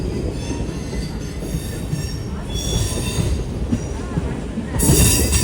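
A Bharat Gaurav tourist train from Yesvantpur to Gaya, hauled by a WDP 4D diesel locomotive, rolls past near Krishnarajapuram with a steady, close rumble, squealing wheels, and a surge in loudness at the end.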